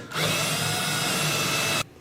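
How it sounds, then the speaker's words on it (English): A power drill whirs at a steady high pitch for almost two seconds, then cuts off abruptly, leaving quiet room tone. "I'm going to be drilling 4 holes, 1 in each side of the braid gang"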